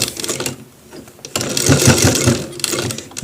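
A sewing machine stitches a shirt collar in bursts, a soft rattle, then a louder whirring run midway through that continues near and steady to the end, with no talk.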